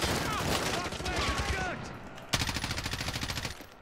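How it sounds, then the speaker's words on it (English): Rapid automatic gunfire in Call of Duty Warzone, with a steady burst of evenly spaced shots in the second half, following muffled game noise and some voices. "We got shots coming behind us."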